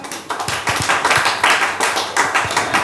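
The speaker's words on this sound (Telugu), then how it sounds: "చప్పట్లు కొట్టండి." A church congregation claps hands in a steady rhythmic beat during a festival worship service, with bursts of clapping close and loud and no talking.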